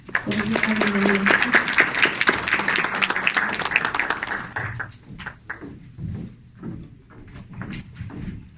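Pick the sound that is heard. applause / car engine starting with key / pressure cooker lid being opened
applause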